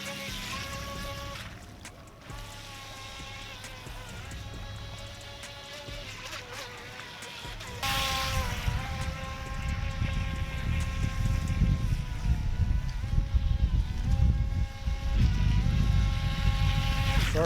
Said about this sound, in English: Sorry for the loud wind there